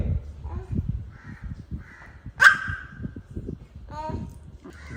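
A single sharp crow caw rings out between stretches of speech, with a person talking before and after it.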